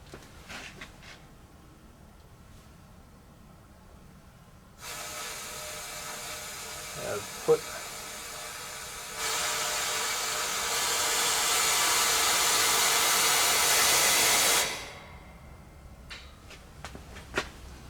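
Blow-off valve on a RapidAir shop air regulator venting pressurized air at about 20 psi, a loud steady hiss that starts abruptly, grows stronger partway through, and cuts off after about ten seconds, with faint handling clicks before and after.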